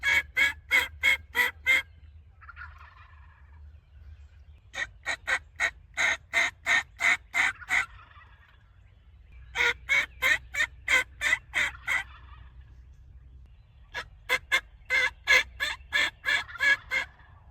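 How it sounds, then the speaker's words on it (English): Wild turkeys gobble on a morning hunt, several rapid rattling bursts of gobbles repeating in clusters, fairly close and loud over a low steady background rumble, with no talking. "I just heard some gobbles not far away"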